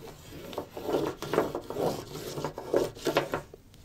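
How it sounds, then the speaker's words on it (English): A flattened spoon is rubbed gently over wet paint in a fine-motor painting activity, making about eight quiet, close, rhythmic scraping strokes. "just taking a spoon that I flattened out. I'm just rubbing over it."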